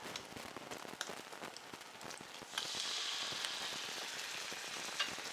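Soy sauce hits a hot pan of egg fried rice and sets off a loud, close, crackling sizzle that swells partway through over a steady frying hiss, with no voices.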